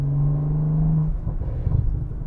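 A 2023 BMW M340i with a performance exhaust, its engine holding a steady loud drone before the note drops and rumbles unevenly, close and alone.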